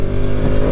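A Bajaj Pulsar RS200 motorcycle engine drones loud and steady on its first ride after delivery, a short continuous burst with no talking.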